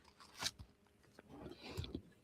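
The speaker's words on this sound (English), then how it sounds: "I can hear you chewing" Someone chews a big burger close to the microphone, giving a few soft crunchy bites and moist chewing sounds, quiet and irregular, with no talking.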